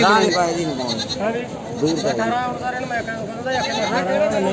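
Goats bleat repeatedly in wavering, nasal calls, close by, at a goat market, mixed with people talking over them.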